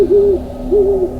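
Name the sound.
owl hooting in the distance at night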